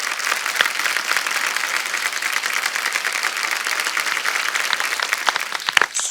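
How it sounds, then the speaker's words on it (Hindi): Steady, dense clapping from an audience at a comedy show stage, loud and sustained throughout, with no talking over it. "एक बार जोरदार तालियां रवि भैया और मनोज भैया के लिए"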